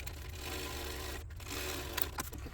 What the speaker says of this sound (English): I'm going to top stitch 1/8 of an inch from the bottom edge of this trim